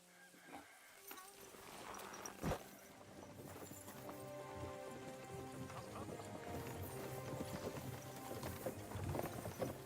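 Horses' hooves clip-clop in the medieval game Kingdom Come Deliverance 2, a steady rhythmic plodding under a bed of music and ambient layers, with a sharp thud early on and a brief vocal sound.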